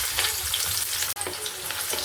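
Onions fry in hot oil in a cauliflower rezala pan, giving a loud continuous sizzle with occasional stirring scrapes and a brief break near the middle.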